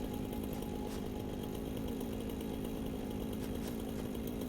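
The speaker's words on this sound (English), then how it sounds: "don't really want to listen to chainsaw noises forever." A chainsaw in the video game Satisfactory drones steadily and loudly throughout, a continuous buzzing engine roar with no pauses and no voices over it.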